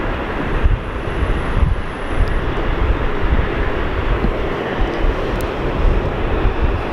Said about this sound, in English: a Jetstar touching down immediately after the Qantas link just took off